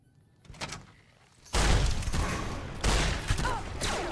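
Shotgun blasts from gameplay in Fallout: New Vegas: a faint early pop, then a loud, heavy boom with a long noisy tail, followed by a second booming blast about a second later.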